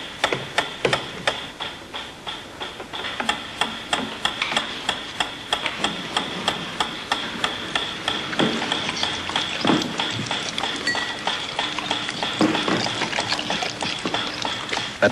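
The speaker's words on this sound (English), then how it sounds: "A ticking metronome." A ticking metronome used as a stimulus in a dog salivation conditioning experiment, giving a steady, evenly spaced run of sharp clicks that repeats throughout over a faint background.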